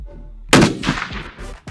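A rifle fires a single loud, sharp gunshot at close range during load development shooting, with a booming report that decays over roughly a second, faint background noise before the shot.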